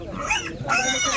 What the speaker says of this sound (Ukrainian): Ось такі також свинки, бачите, це гарно.